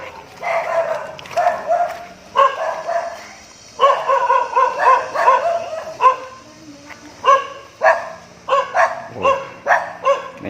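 A dog barks over and over while someone bathes it, the rapid yips and barks coming in clusters with short pauses, close and fairly loud, with no one talking.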